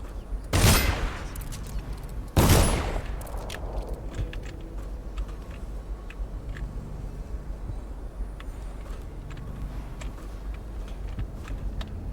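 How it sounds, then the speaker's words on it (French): Two loud gunshots from a firearm, fired during a rat hunt in the stealth game Dishonored, ring out close together near the start, then fade into a quiet ambient bed with no speech. "Chasser le rat au flingue."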